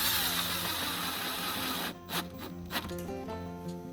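A power drill drives a screw through a plastic wheel on a kid's ride-on toy, giving a loud, steady whirring whine that breaks into uneven grinding bursts and pitch shifts as the bit bites and slows.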